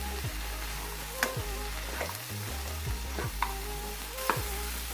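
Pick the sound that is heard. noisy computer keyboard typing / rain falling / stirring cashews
stirring cashews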